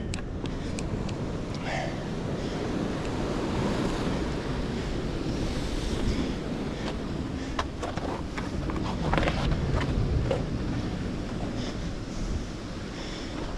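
Big ocean waves break and wash along a rocky shoreline where anglers jig for bonito, a continuous loud roar of surf mixed with gusty wind buffeting the microphone, without talk.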